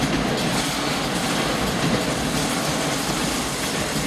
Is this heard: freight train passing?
yes